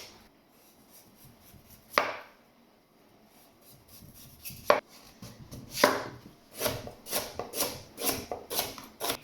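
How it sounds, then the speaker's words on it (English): A knife chopping carrots and a whole swede on a cutting board, a few isolated thuds at first, then a quicker run of irregular close strikes. "So we're going to get these chopped up and get these on the boil."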